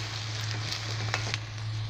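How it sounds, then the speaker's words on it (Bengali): Onions frying in a pan for a dried loitta fish recipe, a steady soft sizzle with faint crackles and a couple of small pops, close and continuous under a low hum. "আমি পেঁয়াজটাকে ভেজে নেব"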